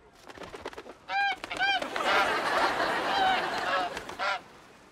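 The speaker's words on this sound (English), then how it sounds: "I did catch the wild goose, though." Wild goose honking in a series of loud, nasal calls, several separate honks spaced apart over a noisy, busy background.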